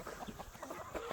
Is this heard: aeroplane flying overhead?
no